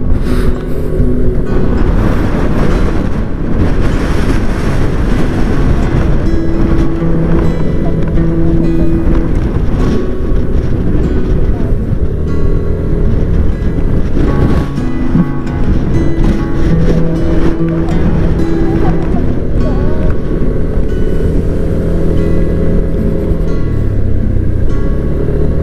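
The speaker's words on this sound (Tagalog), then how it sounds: "Dito pag malakas ang hangin." Strong gusts batter the microphone on a road near San Nicolas, Pangasinan, a loud continuous roaring buffet with low rumbling that never lets up for the whole stretch.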